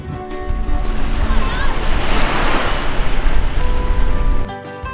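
Sea waves on Seonyudo beach in Gunsan, Korea, a loud, close wash of surf mixed with wind rumble on the microphone, swelling and fading over a few seconds.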